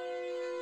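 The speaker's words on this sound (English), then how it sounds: "Siren Head! Shut the fuck up! I know you're there." A brief, eerie tonal siren wail from the Siren Head monster in a dark-woods horror video game, sustained and fairly faint, heard alone.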